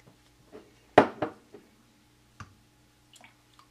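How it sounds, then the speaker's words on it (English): Soft clinks and light scraping of a utensil against a container while fragrance is stirred into cold process soap batter, a few sparse taps with one louder knock, otherwise quiet. "so I'm going to stir in my fragrance"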